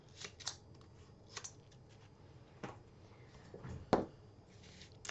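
Scissors snip through 2-inch foam tape at a craft table, giving a few short, crisp cuts spaced out over several seconds with one sharper snip near the end, close and alone.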